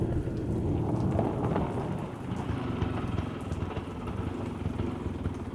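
A skit sound effect of rain and thunder: a continuous, dense downpour hiss with low rumbling thunder, steady and fairly loud, with no voices.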